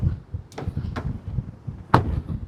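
A Hyundai i20 base model's door is shut, giving a few short thuds, with the firmest solid slam near the end, close by in a quiet setting with no talking.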